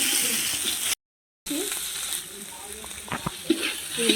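Chopped tomatoes fry with ginger, garlic and onion in a small amount of oil, giving a close, steady sizzle. The sound cuts out briefly after the first second, then returns with a few soft stirring scrapes.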